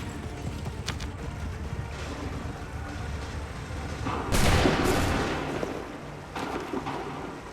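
Flintlock musket volleys in an Assassin's Creed III battle at Concord: scattered distant shots over an ambient battlefield rumble, then one loud massed volley crashes out and rolls away, followed by another burst of firing.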